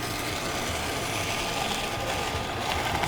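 A Green Star twin gear juicer grinds carrots, giving off a continuous, dense mechanical whirring and churning that stays even and fairly loud throughout, with no talking.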